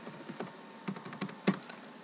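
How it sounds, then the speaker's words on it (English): Typing on a computer keyboard during a password entry, a quick run of light, irregular clicks with one sharper keystroke near the end, close and fairly quiet. "and then type in your password"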